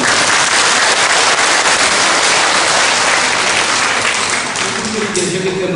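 A large lecture audience bursts into loud, dense applause for Korean War veterans, a continuous roar of clapping that stays strong before easing slightly near the end.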